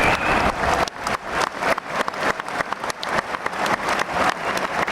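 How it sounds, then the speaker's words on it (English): Dense applause from a crowd of football fans at a match, steady and loud throughout with no voices standing out. "Round of applause to Nigel Ackland."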